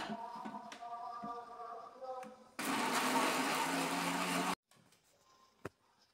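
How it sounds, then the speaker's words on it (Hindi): An electric grinder whirs loudly for about two seconds, blending mint chutney ingredients, then cuts off abruptly; quieter kitchen clatter and faint background noise surround it. "अब हम इसको ग्राइंड कर लेते हैं।"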